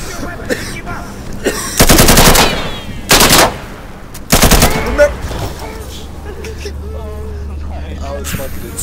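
Insurgency gameplay with three loud bursts of automatic rifle fire, each about half a second long and spread across several seconds, with a voice talking quietly between them.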